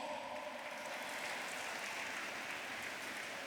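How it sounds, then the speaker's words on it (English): Sustained applause from an audience at a university students' association president's ball, honoring a donor; a steady, dense wash of clapping held at even level throughout, fairly distant and diffuse. "A round of applause for Nuruddin, please"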